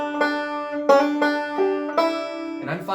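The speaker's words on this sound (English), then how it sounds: "So we could start with a hammer on." Plucked banjo notes ring out one after another in a slow, steady phrase, each pick giving a bright twangy attack with sustained harmonics, with a hammer-on slur on the second string, close and clear with no talking.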